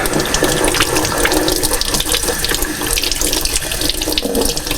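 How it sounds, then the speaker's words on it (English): Water runs steadily from a tap, making a loud, close, continuous splash and hiss with no talking. It is running to cool the cutting of a hole in a recycled glass wine bottle. "Let's get the water going and let's get the hole drilled in here."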